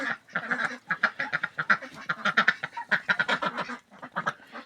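Wild ducks quack in a rapid, continuous stream of nasal calls, close and fairly loud, with no other sounds.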